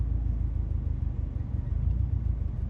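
A Subaru STI engine rumbles at low revs and rises gently as the driver eases the clutch and gas, making a steady, close, throbbing drone inside the car with no talking.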